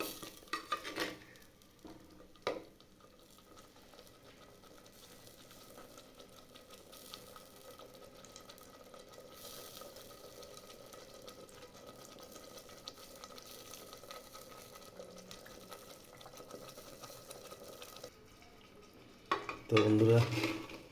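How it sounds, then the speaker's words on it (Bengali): Chicken masala spices frying and being stirred in a pan, a soft continuous sizzle with quiet scraping that rises into louder clattering stirs near the end, heard close with no talk. "এখন মশলাটা কষিয়ে নিচ্ছি।"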